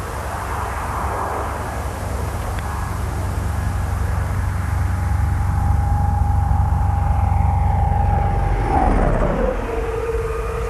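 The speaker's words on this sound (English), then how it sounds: "The V-22 is one of the quietest aircraft in the world." A V-22 Osprey tiltrotor aircraft flies past with a steady, loud broadband roar and a droning tone that drops in pitch near the end as it passes, with no talking.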